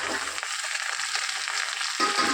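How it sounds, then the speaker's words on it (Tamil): Pirandai (adamant creeper) fries in a generous amount of sesame oil, giving a bright, continuous crackling sizzle over a couple of seconds with no talking. "இந்த பிரண்டையை இப்போ நான் அதில் சேர்த்துக்கிறேன்"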